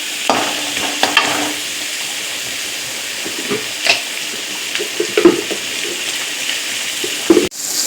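Onions sauté in a pan, with a soft steady sizzle broken by several scraping stirs of a spatula.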